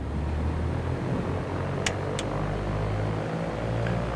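Cessna piston engine running up inside the X-Plane flight simulator: a steady, droning propeller-engine hum that holds constant throughout, with a couple of brief faint clicks over it.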